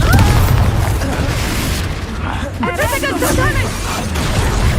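A Confringo blasting spell explodes in Hogwarts Legacy: a loud booming burst opens, rumbling on under spell-casting shouts and game noise before the voices take over.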